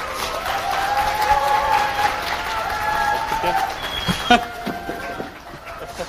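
An audience claps as a party leader rolls a large die on stage at a youth talk concert. The applause is moderate and steady, mixed with voices and a tonal background throughout.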